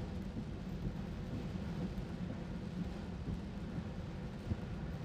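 Heavy rain and rumbling thunder surround a Tesla driving on FSD beta near New Albany, Mississippi, a dense steady roar of downpour and low rolling rumble with no voices.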